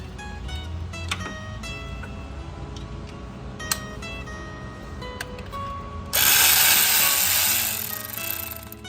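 A ratchet wrench clicks in quick bursts while loosening a 12 millimeter bolt on the alternator of a 2011 Toyota Corolla. Near the end a louder, brighter rasping sound joins in for a couple of seconds.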